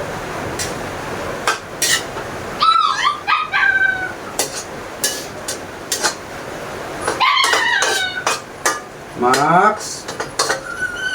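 A puppy named Max yips and whimpers in repeated short, high bursts, close by, mixed with clattering dishes and pans and some talking in the background during heavy rain.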